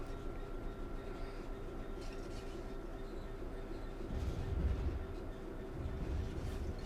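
A simulated train in Train Sim World 3 rolls over track switches, a continuous low rumble with a heavier clattering surge midway, steady and loud with no talking.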